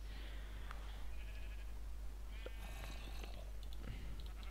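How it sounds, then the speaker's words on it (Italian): Sheep in the video game Minecraft bleat a few times over a constant low electrical hum, short wavering calls scattered at moderate loudness with no talk over them. "c'erano delle pecore"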